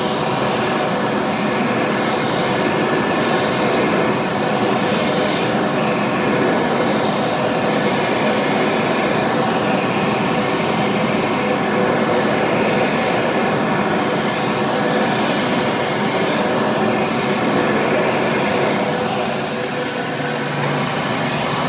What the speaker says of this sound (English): I heard Dayton makes their own motor for their rebadged Model A's, so it dries hands kind of faster